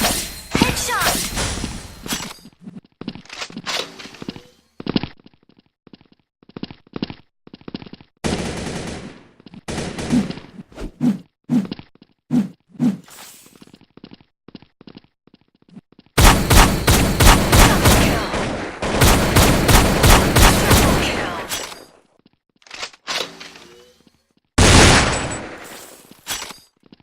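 Shotgun fire in a first-person shooter game, repeated loud blasts in bursts with rapid clusters and gaps, some busy stretches of overlapping shots and impacts.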